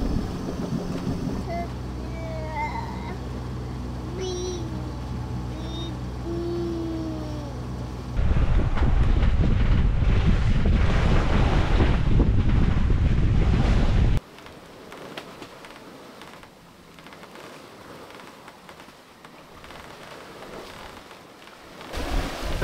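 Steady wind and rushing water surround a sailing boat under sail in about 14 to 16 knots of apparent wind, with wind buffeting loudest in the middle stretch, then a softer wash of waves.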